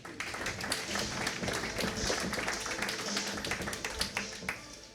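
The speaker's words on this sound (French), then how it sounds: "Il n'est pas interdit de l'applaudir." Forum audience at the opening of the 2025 Aéroforum applauding a regional councillor, a dense, steady wash of many hands clapping, sustained for several seconds with a few sharper individual claps near the end.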